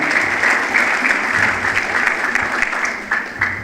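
A crowd at an open gathering claps together in a sustained, busy patter of many hands. The applause stays fairly even with small surges and runs without pause.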